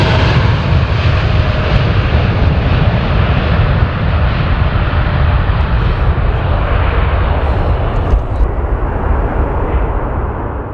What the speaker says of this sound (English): This TAAG Boeing 787-9 Dreamliner makes a stunning departure in low visibility, relying on instrument procedures for a safe climb-out.